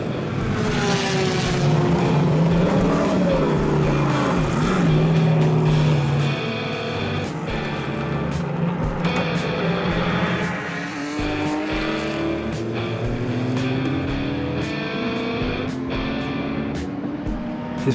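A race car laps the high-speed banked oval at Daytona, its engine note rising and falling as it passes nearby and then fades, with harmonics sweeping through a loud, continuous drone and no one talking.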